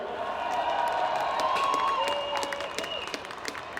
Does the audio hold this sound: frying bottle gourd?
no